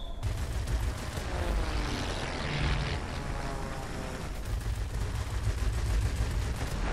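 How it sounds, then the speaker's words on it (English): An F7F Tigercat fighter-bomber in World of Warplanes drops a bomb amid a steady roar of engine noise, dense gunfire and explosion rumble, loud and continuous with no talking. "Let's try to drop our bomb right there"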